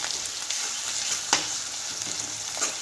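Ground green chili being stirred into onions frying in a pan: a continuous close sizzle with a few soft scrapes of the spoon, no talking.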